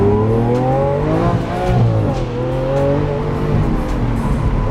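A Lamborghini accelerates hard with a loud, close engine roar that climbs and shifts in pitch as the tires break traction, a continuous aggressive exhaust note without talking.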